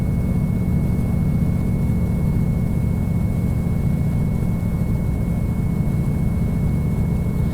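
A Cirrus SR22 GTSX Turbo prop aircraft in X-Plane 11 hums with a loud, steady low engine drone and a constant high tone, unbroken and alone.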